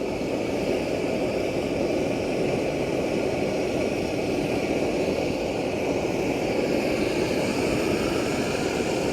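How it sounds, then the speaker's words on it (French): Optimus Polaris multifuel camping stove burning at full flame, a steady, loud broadband roar that holds constant throughout with no talking. "Donc là, je vais pouvoir monter la flamme à fond."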